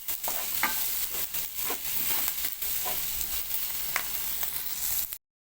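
Sausage and vegetables are stirred in a frying pan, the spoon scraping repeatedly over a steady, loud sizzle that continues until it cuts off abruptly.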